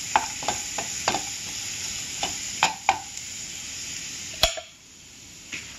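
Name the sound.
garlic frying in a pan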